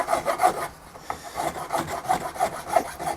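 A Shinto rasp, coarse side, carves guitar wood in a run of rhythmic, close, scratchy strokes with a brief pause early on, and no talking.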